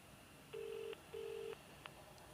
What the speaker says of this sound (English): I'm gonna dial 1 for English